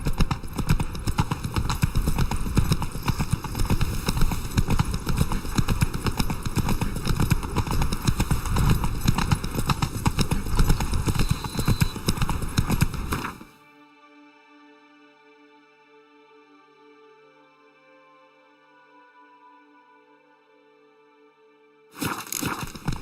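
Hooves of Roach, the ridden horse in The Witcher 3, clip-clop in a steady rhythm, loud and close, for about thirteen seconds, then give way to quiet ambience before the sound returns briefly at the end.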